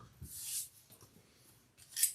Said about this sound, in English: And then I'll just trim this corner, just like that.